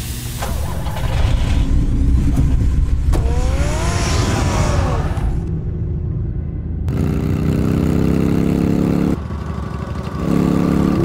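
A car engine in a Batman audio drama rumbles and revs loudly, rising in pitch with acceleration, then settles into a steady drone broken by brief cuts and shifts as the vehicle moves.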